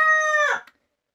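A backyard rooster crows a single loud, close call that holds steady, then breaks off into a short ragged tail and silence.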